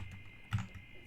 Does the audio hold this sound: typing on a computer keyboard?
yes